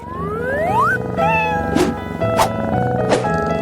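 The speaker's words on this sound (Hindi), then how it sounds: "इस बार तुम लोग इस प्यारे से बिल्ली के लिए लड़ोगे।" A small, fluffy cat meows amid music and swooping, cartoon-like whoosh effects, the cries moderately loud and blended into the busy mix.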